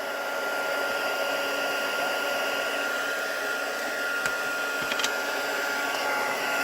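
A heat tool warming embossing powder blows a steady, loud whooshing hiss throughout, with a couple of faint clicks near the end.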